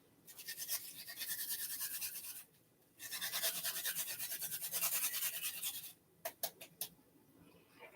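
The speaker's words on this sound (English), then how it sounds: "so may I grate some onions" Onion rubbed on a grater at breakfast prep, steady rapid rasping strokes in two long runs, then a few short scrapes, close up with no talk.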